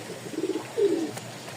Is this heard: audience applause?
no